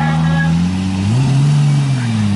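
A 750 hp 2JZ-powered Nissan 180SX drift car revs hard at a Thailand drift event, its loud, close engine tone holding steady, then climbing in pitch and easing back, with a voice faintly underneath.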